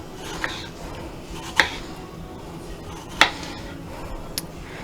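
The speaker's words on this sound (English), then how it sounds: "we're going to be slicing and dicing 2 tomatoes" Knife slicing and dicing two tomatoes on a cutting board for chicken and shrimp paella, with a few sharp isolated chops spaced seconds apart over quiet kitchen background.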